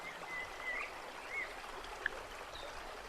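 A river runs through dense vegetation, a soft, continuous trickle and flow heard faintly from close by, with a few thin bird calls above the water and one small drip-like tick.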